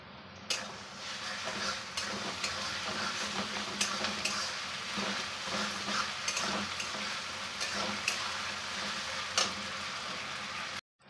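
Onions fry in a pan for a fish-head biryani with Gobindobhog rice, giving a constant soft sizzle broken by repeated sharp stirring scrapes and clicks of a utensil, with no voices.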